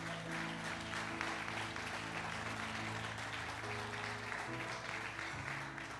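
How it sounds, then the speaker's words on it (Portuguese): A church congregation applauds in a continuous, soft wash of clapping, faint and distant, with sustained musical tones underneath. "Você pode aplaudir a memória desse cara?"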